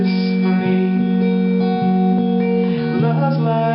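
Acoustic guitar strumming the chords of the first verse of a worship song, a steady flowing rhythm played close and alone with no singing or talk.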